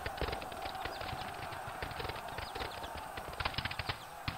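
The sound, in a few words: horse cavalry hooves in Seven Years War battle video game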